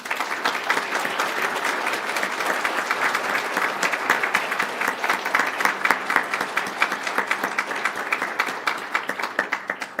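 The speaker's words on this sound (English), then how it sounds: "join me in celebrating these individuals with a round of applause and thanking them" An audience at an annual scholarship celebration claps steadily for about ten seconds, a dense, moderately loud round of applause with crisp individual claps standing out through it.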